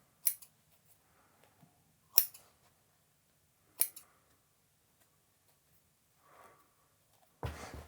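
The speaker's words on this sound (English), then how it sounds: "Back tack a few times. Snip." Scissors snip thread after back-tacking a seam during a trouser alteration: three sharp, separate cuts a second or two apart, close and crisp against near silence, with a soft rustle at the end.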